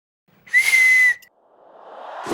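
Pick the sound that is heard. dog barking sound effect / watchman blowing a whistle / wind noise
watchman blowing a whistle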